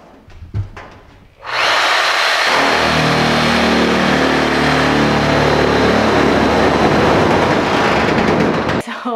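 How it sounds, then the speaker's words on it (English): An angle grinder cuts a hole through the metal side of a school bus, screaming loud and continuous for over seven seconds after a brief start, then stopping abruptly. "we have the old trusty standby, the angle grinder"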